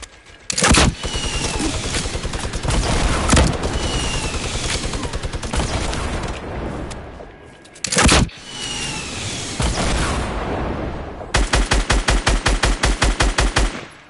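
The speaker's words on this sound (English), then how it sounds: "You're shooting at me?" Gunfire in a battle royale video game, with long loud bursts of automatic fire, a pause, another burst, then a fast rhythmic volley at the end, filling the whole stretch.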